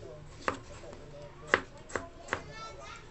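A kitchen knife chops tomatoes for a coconut-milk vegetable stew, four sharp cuts against a board at an uneven pace, close and distinct over a quiet room.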